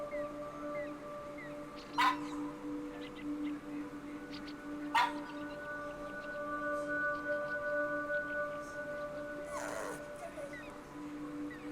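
A few short, high whimpers and yips from pet dog Manju come at spaced intervals, fairly faint, over a constant low background tone with no talking.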